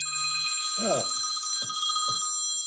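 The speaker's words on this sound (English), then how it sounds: "pardon that phone call" A telephone rings in repeated electronic bursts during a presentation, with a steady high tone throughout and a brief spoken exclamation between the rings.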